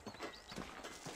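Horse hooves clip-clopping in the video game Red Dead Redemption, a few soft, evenly spaced hoofbeats at a walking pace, faint and alone over a quiet background.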